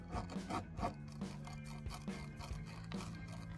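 A tire plug kit reamer worked in and out of a small hole in a car tire, making quiet rasping, scraping strokes in a regular rhythm, close up and with no talk.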